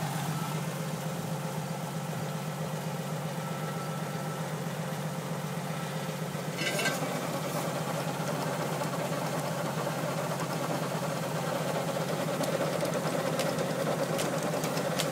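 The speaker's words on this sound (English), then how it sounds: "Tractor is one notch above idle." A tractor engine runs one notch above idle with a low, even rumble, continuously throughout, with a brief rattling clank partway through.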